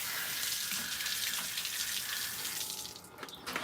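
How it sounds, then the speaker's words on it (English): A fish pepper is rinsed under a running kitchen tap, a close, steady rushing splash of water that changes tone briefly as the pepper moves through the stream. "Let's rinse this off real quick."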